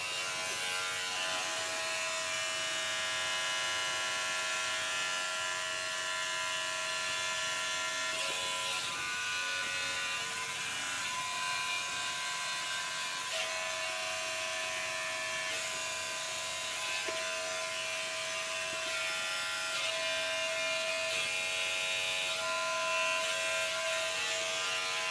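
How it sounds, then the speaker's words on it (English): Electric hair clippers trim the back of a man's neck, giving a steady, close, droning buzz that carries on without a break for the whole stretch, with no talking. "some rudimentary trimming on the back of my neck"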